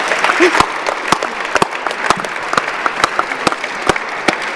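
An audience at a youth film and panel discussion event applauds the young participants, with a background of many hands clapping punctuated by sharp, close individual claps in an uneven rhythm.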